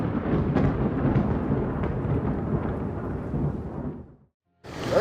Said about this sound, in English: Thunderstorms bring more than lightning, they raise flooding concerns.